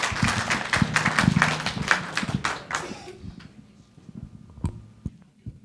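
Audience applause at an FAA training summit, a burst of many hands clapping loudly for the first three seconds, then thinning to scattered claps and faint room noise.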